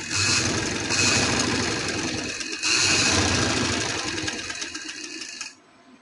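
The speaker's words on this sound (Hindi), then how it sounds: "इस साइड पे सिलाई लगाएंगे इस तरह।" Sewing machine stitching lace onto fabric, a steady loud mechanical whir with a short pause partway through, then running again before winding down near the end, close with no talk.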